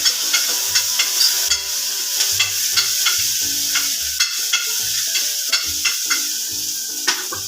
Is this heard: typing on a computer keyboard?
no